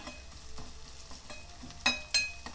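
Freshly ground masala with ginger and garlic fries in a pan for a boondi and paneer salan, giving a soft, close sizzle with stirring scrapes and two sharper clinks near the end.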